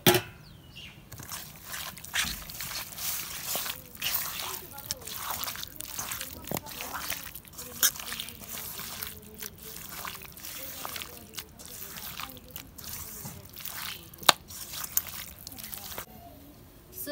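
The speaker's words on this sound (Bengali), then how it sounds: "এখন আমি সর্ষের তেল দিয়ে মাংসগুলো মাখাই নিব।" Hands work raw chicken pieces with mustard oil and spices such as ginger, garlic, onion, cumin and turmeric, producing repeated wet squelches and slippery slaps in an uneven rhythm, close up, over a steady low background.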